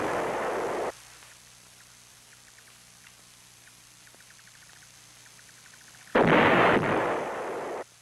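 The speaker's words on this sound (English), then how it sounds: "The North Vietnamese artillery hitting Khe Sanh and the Marine outposts was all indirect fire." Heavy North Vietnamese artillery shells strike Khe Sanh during the siege, two loud broadband blasts at the start and again near the end, with a low rumbling lull between them.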